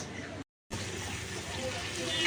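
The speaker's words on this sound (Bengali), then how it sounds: "এটা কি ঢালছো মা? এই যে ভাজার এই তেলগুলো" Used frying oil from cooking chicken chaap is poured out in a soft, steady liquid stream, broken by a brief silent gap before the pouring resumes and carries on quietly.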